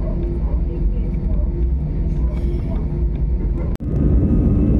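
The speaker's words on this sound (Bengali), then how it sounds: "এইভাবেই ওই দিকে রানওয়েতে নিয়ে যাবে এবং তারপর রানওয়ে থেকে আমরা উড়ে যাব ওই আকাশ দিয়ে শুধু শ্রীনগর।" Steady broadband rumble of a passenger jet taxiing toward the runway for a flight from Kolkata to Srinagar, heard from inside the cabin as a continuous loud drone with a brief dropout near the end.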